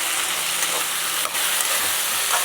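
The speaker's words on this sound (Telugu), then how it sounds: "ఫ్రైడ్ టమాటాలు తీసుకొని బాగా ఎర్రగా పండించాలి" Tomatoes frying in a pan for a chole curry give off a steady, dense sizzle that stays loud and close for the whole stretch, with no talking over it.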